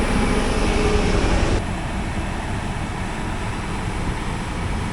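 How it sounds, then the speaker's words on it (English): A Krone Big X630 forage chopper harvesting corn silage roars with a steady, loud broadband engine and cutterhead drone, shifting slightly in tone partway through, with no voices. "So you gotta get used to this new chopper"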